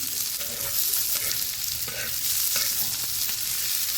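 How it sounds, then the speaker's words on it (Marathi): Ingredients for a lemon and green chili recipe roast in oil in a pan, giving a steady, close, dense sizzle with faint stirring scrapes throughout and no talking. "याला छान आता भाजून घ्यायचं."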